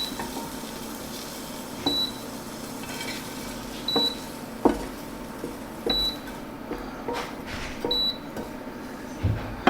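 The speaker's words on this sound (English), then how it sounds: "beep, beep you're hearing is just when I take, and the induction plate says there's not anything on it anymore" Beeping from an induction cooking plate as a saute pan is lifted off it, short high electronic beeps at roughly two-second intervals over soft kitchen clatter and utensil knocks.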